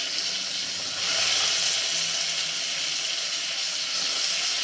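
Chopped potatoes dropped into hot oil with spices over a medium flame, giving a steady soft sizzle and crackle that swells slightly after the first second and continues evenly.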